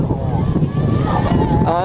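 Strong outdoor wind at a riverside beauty spot in Rajshahi, loud steady rushing and buffeting across the microphone throughout, with voices faintly mixed into the roar.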